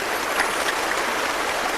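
Water sloshes and rushes steadily as fine black sand is washed out of a bucket during gold panning, a continuous close wash with no talk.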